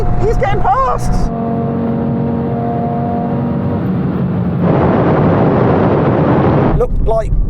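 A tuned Audi RS3 accelerates hard in a drag race, its engine note rising through steady harmonic tones and then a louder broadband roar, with brief voices at the start and end.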